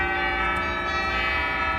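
The bells stop of a refurbished Austin pipe organ rings a sustained, shimmering metallic tone with steady loudness, a short clear chime with no voices.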